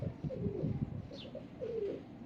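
Low, soft pigeon cooing, a few throaty rolling coos close by in a quiet setting, with no talking.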